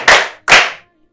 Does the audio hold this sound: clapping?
yes